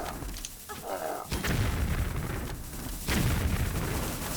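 Grenades go off in Tomb Raider Remastered, two heavy booming blasts at about 1.3 and 3 seconds, each followed by a loud rumbling tail, over a dense layer of game noise.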